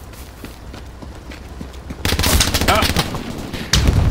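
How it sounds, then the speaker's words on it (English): MG42 machine gun fire in a World War II shooter game, bursts of rapid shots crackling under a quieter stretch, then louder sharp volleys near the end, with a brief shout. "Father Hans was waiting for me with the MG42"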